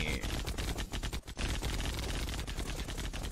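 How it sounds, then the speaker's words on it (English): Continuous rapid gunfire from a team deathmatch in the first-person shooter EV.IO, a dense rattle of close and distant shots filling the whole stretch with barely any pause. "Where are those shots coming from?"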